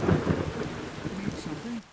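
Rain and thunder in the video game Skyrim, a low rolling rumble over steady rainfall, heard briefly and fairly quietly.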